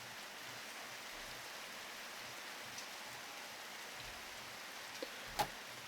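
Rain falls steadily in a farming life-simulation game, a soft even hiss of pattering drops with a couple of faint taps near the end and no voices.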